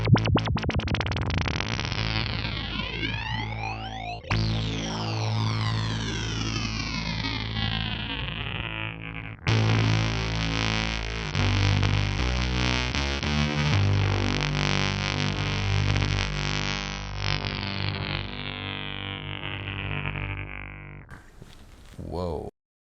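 Axoloti guitar synth pedal, a €65 unit, producing a weird, throaty, aliasing tone with its modulation slowed right down to LFO rate, sweeping and warbling loudly alone before cutting off near the end.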